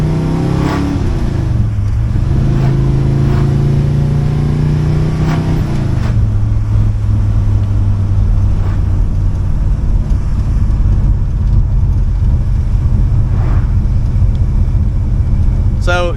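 A car spins its tires while accelerating hard, its engine roaring loud and close. The pitch climbs, drops, then settles into a sustained high-revving drone with rough tire noise underneath.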